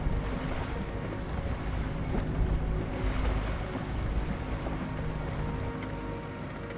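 An amphibious vehicle pushes across a flooded river swollen by the spring thaw: a loud, continuous rumble of engine and churning water mixed with wind buffeting the microphone, with no voices.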